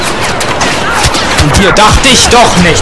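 Dense blaster fire from a Star Wars Battlefront battle crackles in rapid bursts throughout, loud and continuous, with someone talking over it.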